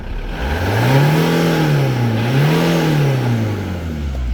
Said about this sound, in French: Et si je vais essayer de vous accélérer là pour vous montrer dès derrière.